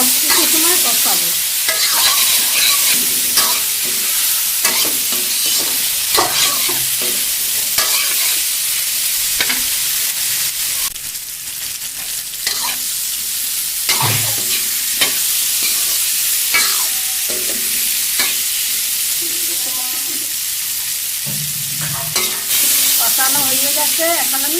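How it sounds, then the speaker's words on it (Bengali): Spices being stir-fried in a pan (kosha) for a chhana curry, a loud, constant sizzle overlaid with repeated spatula scrapes and knocks against the pan, close up and without talk. "মশলা দিয়ে দিলাম। এখন আমি এইভাবে কিছু সময় কষাবো।"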